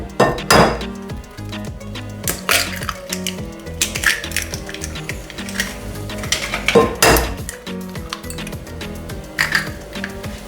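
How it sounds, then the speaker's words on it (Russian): Two eggs cracked into a bowl while preparing a poppy-seed bun dough, giving sharp clinks and taps of shell against the bowl rim amid dish and utensil clatter, close and fairly loud, with no talking. "Берем 2 яйца, вбиваем их сюда."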